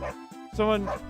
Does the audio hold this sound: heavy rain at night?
no